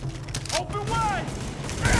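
A grenade blast in the shooter Tom Clancy's The Division, a heavy boom amid game gunfire and sweeping electronic tones, with a player talking over the battle noise.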